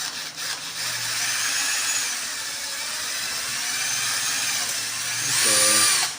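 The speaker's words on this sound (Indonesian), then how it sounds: "berarti kita bor aja lah di sini ya" Small electric drill boring a hole in a circuit board for a homemade 5-volt USB adapter, a steady high whine running several seconds and rising in pitch and loudness near the end, with no talking.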